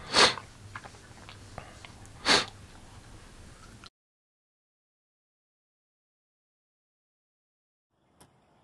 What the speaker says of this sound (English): Sneeze break.